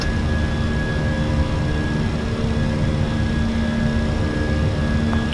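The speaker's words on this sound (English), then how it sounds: "Cleared for takeoff. Runway 27 left." A jet airliner's engines roar steadily at Heathrow on runway 27 left during the takeoff roll, a continuous loud broadband rumble with a faint tonal whine held throughout and no talk.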